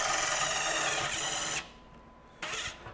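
A DeWalt DCF845 20V XR brushless impact driver in mode 1 drives a self-tapping screw into sheet metal: a loud, close burst for about a second and a half, a brief pause, then a short second burst.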